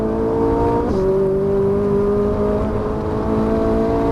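A Ferrari 458 Italia engine drones loudly and steadily on a track, with one sharp pitch shift as it gears and keeps accelerating with a high, sustained whine.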